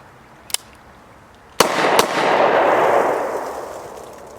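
A Double Tap Defense tactical pocket pistol fired twice outdoors: a faint click, then a sharp loud report followed by a second shot a moment later, both trailing into a long rolling echo, no talk.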